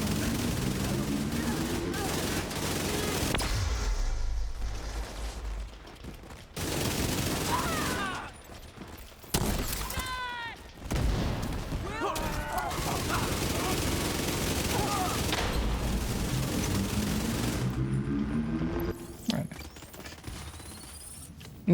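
Steady gunfire from a shooter video game plays throughout, with frequent bursts, mechanical clicks and reload sounds. It sits under continuous talking, with brief quieter gaps.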